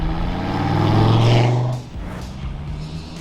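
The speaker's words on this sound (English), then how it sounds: "hearing that lovely V10 bellow from the sides of the car" A deep, loud Dodge Viper ACR V10 drone from side exhausts holds steady and swells for about two seconds, then drops off into a rougher, quieter rumble.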